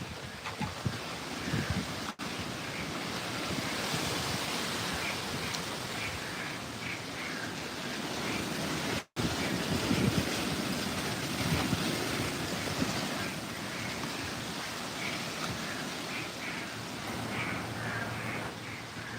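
Strong wind blows outdoors between a house and a shed ahead of Hurricane Milton on the East Coast, a loud, continuous roar with rough gusts buffeting the microphone.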